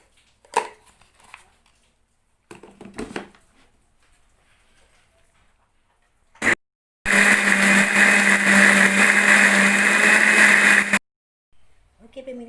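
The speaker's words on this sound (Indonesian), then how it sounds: "siap untuk kita blender ya, tapi jangan lupa ditambahin garam secukupnya" Kitchen blender grinding chili, ginger, candlenut, shallots, garlic and coriander for a chicken gulai spice paste, running loud and steady for about four seconds. A few soft knocks and brief speech come before it.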